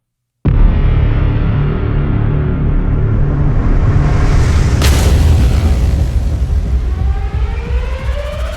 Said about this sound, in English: You've got gut-wrenching booms, Braams, downers, hits and impacts